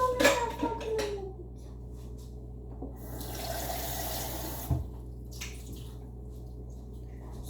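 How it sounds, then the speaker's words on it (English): Kitchen faucet running water into a pot, a steady hiss that swells in the middle and then eases, with brief clinks and a voice early on. "So you put water in it."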